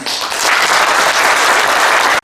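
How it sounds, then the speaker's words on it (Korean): An audience applauds the outgoing chairman of a memorial society at an inauguration ceremony, a short, loud, even burst of clapping that stops abruptly. "박인규 이사장님께 큰 박수 한번 부탁합시다"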